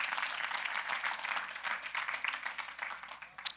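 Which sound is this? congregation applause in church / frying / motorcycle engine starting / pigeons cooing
congregation applause in church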